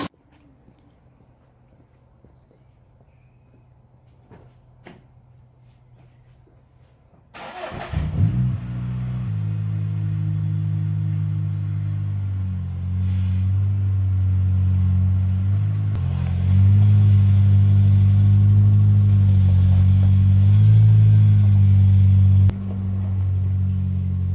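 A truck engine, a first-generation Cummins diesel, cranks and catches after about seven seconds of quiet, then idles and revs in a loud, steady low rumble as it is moved out of the way, close by and without talk.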